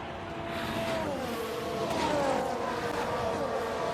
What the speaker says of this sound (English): So I think that's the chassis and the suspension that you can hear